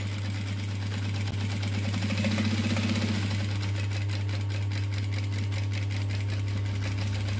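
A sewing machine slowly stitches a Demi wallet right beside a flap, giving a steady mechanical whir with a faint rapid needle rhythm and a constant low hum throughout, close and alone with no voice.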